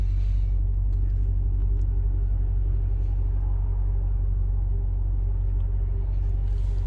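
Maserati GranTurismo idling in sport mode on a cold morning, its engine a deep, steady, close rumble with a low even throb throughout and no revving.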